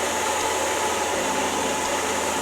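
An electric mixer whips dessert batter for a chocolate and durian dessert box, giving a steady, even whirring hum with a hissy, noise-like texture that holds unchanged throughout, with no voices.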